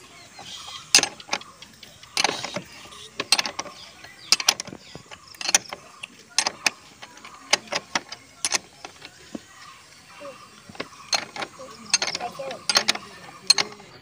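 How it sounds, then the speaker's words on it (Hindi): A wrench tightens the main axle nut on a Honda Dio BS4 scooter, giving sharp repeated metallic ratchet clicks and clanks in an irregular rhythm, close by in a quiet workshop. "उसके बाद ये मेन एक्सल को टाइट करना है पूरा फुल टाइट।"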